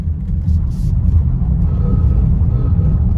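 BMW car pulling away at full steering lock in traction mode, a steady loud low engine rumble building under power, continuous and close.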